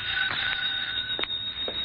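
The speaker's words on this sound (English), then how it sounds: "My phone was ringing when I got there." Telephone ringing in an apartment, a faint, steady electric bell tone with a few soft clicks, heard alone.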